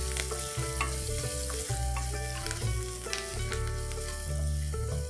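Finely chopped ginger and garlic with curry leaves stirred in hot oil in a frying pan for dahi bhindi, giving a steady, loud sizzle broken by the scrape of a spoon against the pan throughout.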